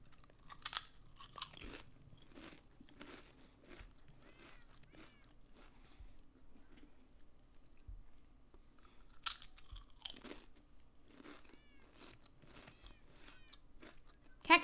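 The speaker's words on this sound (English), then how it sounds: "God, I love snacking too much." Crunchy snack being chewed close to the mic, with bursts of crisp crunching and quieter chewing between, faint background hum throughout.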